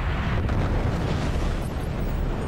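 Weapon hits explode on the core in the video game Forts, a loud continuous roaring blast of layered explosions filling the whole moment with no speech.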